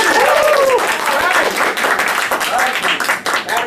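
A loud audience at an entrepreneurship seminar claps and cheers, dense applause near and full, with a few voices calling out through it before it gradually thins.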